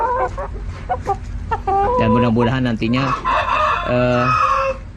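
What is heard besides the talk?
chickens clucking and crowing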